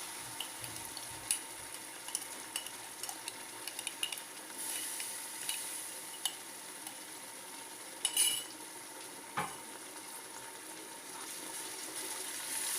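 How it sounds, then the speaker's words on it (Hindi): Ginger garlic paste and onions fry quietly in a pan for beef nihari while a spoon stirs, giving a faint low sizzle with scattered soft scraping clicks. "चम्मच चलाते हुए तकरीबन 2 से 3 मिनट तक फ्राई कर लेंगे।"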